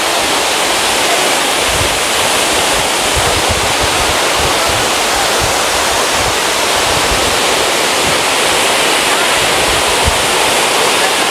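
A loud, steady roar of falling water fills the whole clip, broad and constant from nearby Hinulugang Taktak Falls in Antipolo, with no pauses.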